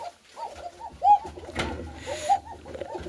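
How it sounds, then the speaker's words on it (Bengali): Satin pigeons coo nearby in soft, rounded, repeated phrases with a brief rustle in between, heard alone without talk. "প্রথমে যে কবুতরটি দেখাবো আপনাদেরকে সেটা হচ্ছে ঝর্ণা শাটিন।"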